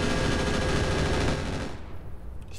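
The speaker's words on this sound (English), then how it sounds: "Stop shooting me." Dense, continuous gunfire roars in the mech video game Roguetech, a loud sustained barrage that starts to fade toward the end.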